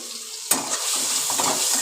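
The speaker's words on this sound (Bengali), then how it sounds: "আলুগুলোকে লাল লাল করে ভাজা করতে হবে" Chopped potatoes dropped into hot oil for a potato, egg and fish curry, a sharp burst of sizzling at the drop, then a loud, steady crackling fry close by, no voices.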